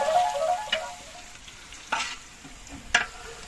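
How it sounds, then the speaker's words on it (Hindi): Onions sizzling in hot ghee in a home kitchen pan, a steady soft frying hiss broken by a few sharp clinks of a spoon stirring against the metal. "घी हमारा गर्म हो गया है, अब इसमें डाल रही हूँ प्याज।"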